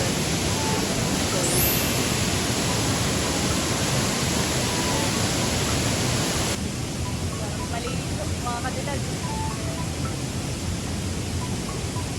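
Depalyon Falls in General Nakar, Quezon pours with a dense, steady hiss of falling water, loud and close, that drops slightly in level partway through.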